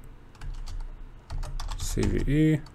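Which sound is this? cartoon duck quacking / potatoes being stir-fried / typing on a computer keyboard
typing on a computer keyboard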